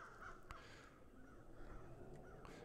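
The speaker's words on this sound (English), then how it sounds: "Why, hello, birds." Crows caw in a survival video game set on an island: a few sharp, scattered calls stand out over a steady outdoor ambience, with no talking.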